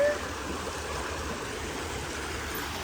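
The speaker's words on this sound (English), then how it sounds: "Do you hear the water?" Water flows in a park stream beneath a bridge, a steady close rushing wash without breaks, with no talking over it.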